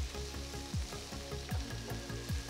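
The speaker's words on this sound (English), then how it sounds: "Sauté the tomatoes for about 5 minutes." Sliced tomatoes and onions sauté in a pan over a high flame, giving a steady close sizzle and crackle with repeated soft scraping strokes of stirring and no talking.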